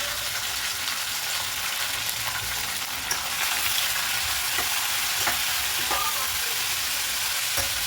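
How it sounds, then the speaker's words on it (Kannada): Chopped onion, curry leaves, tomato and greens sauté in a pan, giving a steady close sizzle throughout with occasional clinks of a spoon stirring. "ಕಟ್ ಮಾಡಿ ಇಟ್ಕೊಂಡಿರೋ ನೀರುಳ್ಳಿ, ಕರಿಬೇವು, ಟೊಮ್ಯಾಟೊ ಹಾಗೆ ಸೊಪ್ಪುಗಳು ಅಷ್ಟನ್ನು ಒಂದೇ ಸರಿ ಹಾಕಿ ಬಾಡಿಸ್ಬಿಡೋದು"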